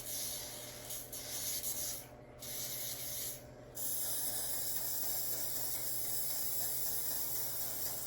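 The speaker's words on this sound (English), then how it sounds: "I'm gonna spray my lace with the got to be glued so it won't stain." Got2b Glued hairspray is sprayed onto wig lace in a steady, loud hissing spray that breaks off briefly twice and then runs on continuously, close up with no talking.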